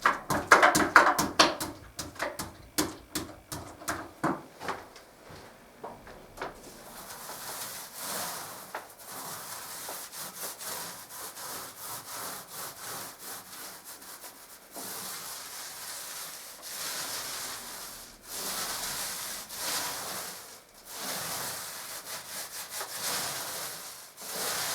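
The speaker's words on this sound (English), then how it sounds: "Now I'm using a medium pile roller sleeve to get a finer texture on this." A paint roller with a medium pile sleeve rolling paint onto an interior wall, a soft repeated rubbing and swishing, with quicker strokes at first and then longer sweeping passes, close and fairly quiet.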